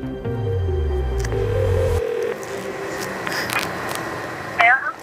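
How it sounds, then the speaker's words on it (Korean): Telephone tone heard while a call is placed from a phone, a steady near tone lasting about two seconds and then cutting off, followed by quieter background noise and a short chirping blip near the end. "드디어 첫 번째 전화를 거는 순간이다."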